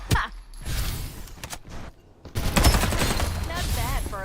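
Bursts of automatic gunfire crackle through a chaotic video game firefight, dense rapid volleys filling the mix with voices talking over parts of it.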